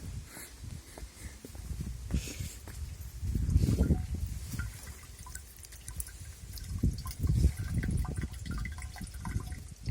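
Water runs steadily with gurgling, splashing surges that swell and fade, close by, with no voices.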